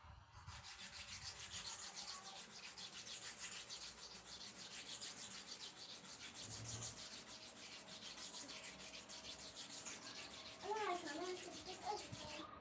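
Clipper blades are stroked against a sharpening surface at about a 45-degree angle, giving a continuous, even scraping rub in quick repeated strokes, with a brief faint voice near the end.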